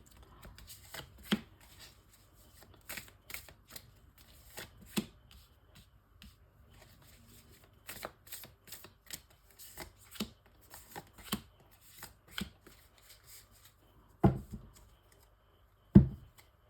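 Tarot cards being shuffled by hand for a nine-card spread, heard as irregular soft riffling bursts and flicks with a couple of sharper slaps near the end, close and quiet, no voices.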